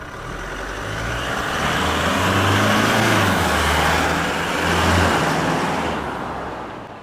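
Stock muffler exhaust on a Toyota Hilux GUN125 at low speed, a steady deep drone with low rumbling pulses that swells slightly and then fades, heard alone and fairly loud without any talk.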